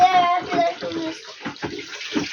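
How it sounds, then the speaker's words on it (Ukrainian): Water gushing and splashing from a spring in a forest, a continuous close rushing flow while voices talk over it. "Ти подивись, як тут вода валить"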